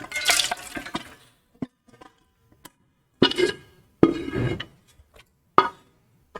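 Raw meat is tipped from a container into a large cooking pot, giving several separate bursts of wet slapping and clattering against metal, split by brief pauses and a few light knocks.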